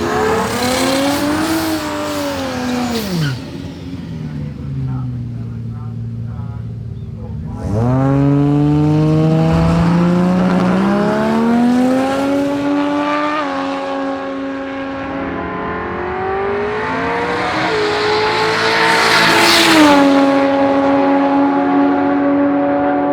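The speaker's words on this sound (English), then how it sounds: "This thing's another Barra powered Ford, and it runs pretty easy 9-second passes" Barra-powered Ford XF Falcon on 255 radials with factory-style wheels, making a nine-second drag racing pass: loud, near engine revving hard through rising gear-change sweeps with brief drops between shifts, building to a strained high-rev roar.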